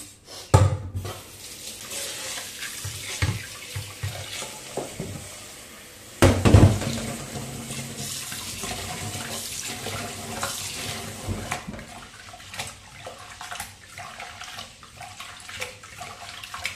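Boiled rice being washed in a bowl under a running kitchen tap, with steady splashing water and sloshing grains, a few louder bumps and stirring noises throughout, close and moderately loud.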